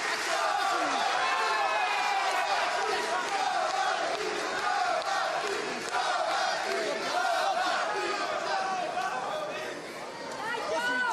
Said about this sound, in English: the crowd trying to get behind their man here